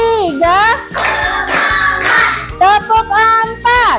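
A classroom of children claps hands in a counted ice-breaker game, with sharp rhythmic claps in short groups under loud voices chanting and calling out together.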